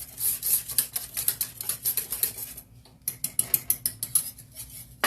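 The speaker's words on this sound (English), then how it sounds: "but it's still just going to town, boiling here" Chicken gravy in a pot on a switched-off stove keeps boiling, with quick irregular bubbles popping and ticking close by, a brief lull midway before the popping resumes.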